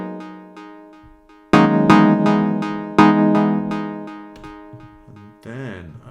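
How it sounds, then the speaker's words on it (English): Layered chord synths play a run of stacked chords, with bright attacks that decay and a few hits landing harder than the rest. No voice is heard over the synths, and the sound ends in a wobbling, swirling tail. "just a regular chord synth, and then you layer them together, they sound like this"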